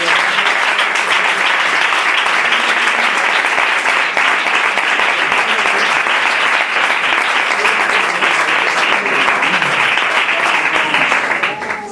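A church congregation applauds loudly and steadily for about twelve seconds, a thick sustained wash of many hands clapping at close range with no voice standing out.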